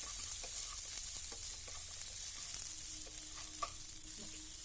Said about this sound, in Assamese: আৰু এইকেইটা ভালকৈ মটৰকেইটা সিজালৈকে ভাজি ল'ব